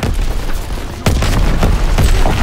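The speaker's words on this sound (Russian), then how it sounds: "Полетела граната!" A grenade goes off in Call of Duty WWII, a sharp, loud boom about a second in, followed by rumbling battle noise and further muffled blasts and gunfire.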